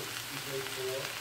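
Zucchini, yellow squash, cabbage and onion frying in a pan, a soft continuous sizzle with faint scraping, heard close and steady over a quiet kitchen background.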